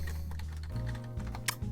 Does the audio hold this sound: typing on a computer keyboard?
yes